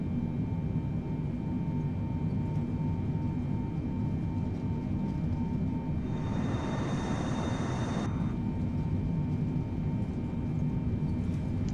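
Simulated airplane engine in Microsoft Flight Simulator drones steadily and loudly throughout, with a brighter, hissing rise in power for about two seconds midway before settling back to the constant hum.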